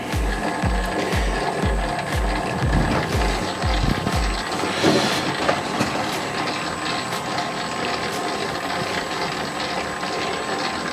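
A spiral dough mixer kneads 65% hydration pizza dough made with Molino Dallagiovanna flour, giving a steady mechanical whir with rhythmic low thumps in the first few seconds, then a continuous churning drone.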